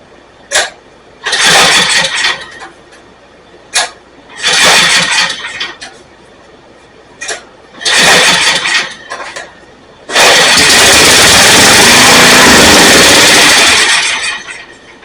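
A Snapper rear-engine mower with a fuel delivery problem cranks in several short, loud bursts, catching and dying each time. It then roars up and runs steadily for a few seconds before cutting out.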